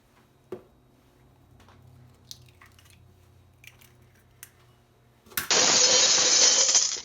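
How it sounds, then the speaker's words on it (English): Two eggs knocked together in a kitchen give a sharp crack near the start, then a few small taps, and a loud sustained sizzle-like burst follows later. "Someone told me you should crack 2 eggs against each other."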